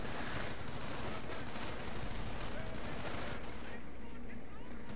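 Video game machine gun fire rattles in rapid bursts through dense battle noise, with someone talking over the shooting.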